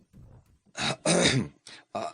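A man coughs and clears his throat in a few short, gruff bursts, close and fairly loud, with brief pauses between them and no other sound around.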